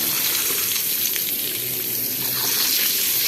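Water sprays from a hose while plants are being watered, a continuous close hiss of spray that holds steady the whole time, with no voices over it.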